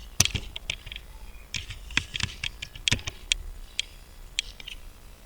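Fingers typing an average formula into an Excel spreadsheet on a computer keyboard, producing clusters of crisp, close key clicks in an irregular rhythm with brief pauses.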